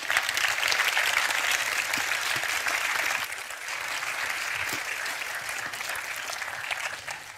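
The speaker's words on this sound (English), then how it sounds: "Please give Layla a round of applause." A seated audience at a motivational keynote talk gives a performer named Layla a full round of applause. The clapping is dense and loud, eases slightly partway through, then carries on steadily to the end with no voices over it.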